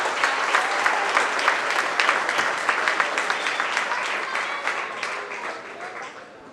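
Crowd at a county fair 4-H goat show applauding the champion showman, a dense, steady burst of clapping that slowly thins and fades toward the end.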